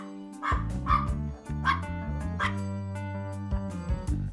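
A dog barks several times in quick, yappy bursts, close and loud, over a steady bed of music.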